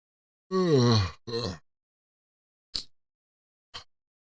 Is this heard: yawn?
yes